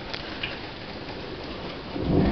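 Steady summer rain hisses continuously, with a low rumble of thunder swelling toward the end; no voices.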